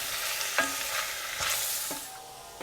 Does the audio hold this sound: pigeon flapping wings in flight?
no